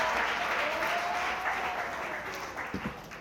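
An audience at a church book talk applauds, a steady wash of clapping that tapers off toward the end, with a few louder claps and faint voices near the close.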